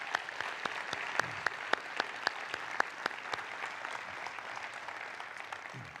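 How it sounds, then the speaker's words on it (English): Audience applause fills a conference hall, steady clapping from a crowd with sharp individual claps standing out near the front, sustained at moderate level for several seconds. "Let's give Ed a round of applause"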